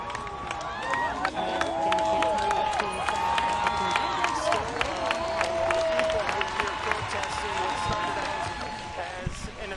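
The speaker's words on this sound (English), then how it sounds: "You can hear the chants right now." A protest crowd in Portland, Oregon, gathered in memory of George Floyd, chants in unison, with rising and falling rhythmic voices carrying over crowd noise and scattered claps.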